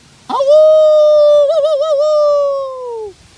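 A single person imitates a gray wolf howl: one long, rising, sustained tone that wavers in the middle and then drops off, loud and close.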